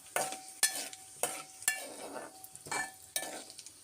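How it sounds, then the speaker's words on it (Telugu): Mustard seeds, cumin and a dried red chilli fry in hot oil under a low sizzle while a spoon scrapes the pan in about six firm, regular strokes. "దీంట్లో ఆవాలు అలాగే జీలకర్ర ఒక ఎండుమిరపకాయ కూడా వేసేస్తున్నాను ఒకసారి దీన్ని మనం వేయించేసేసుకుందాం"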